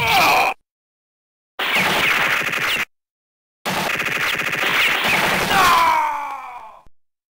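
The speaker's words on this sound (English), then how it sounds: "Heavy machine gun." Heavy machine gun fire in the arcade game Metal Slug 2, loud rapid bursts split by short silences, the last burst ending in a crash and a falling screech.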